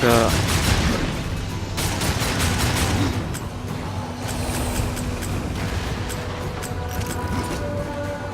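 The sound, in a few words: gunfire from shooting in video game Darksiders II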